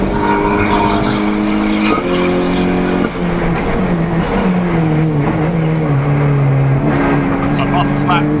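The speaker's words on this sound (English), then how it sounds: "We're just enjoying these cars coming around now, absolutely steaming it around." Race cars lapping a circuit during the TDC Brands GP roar continuously past, engines rising and falling in pitch, with a commentator talking over the track noise.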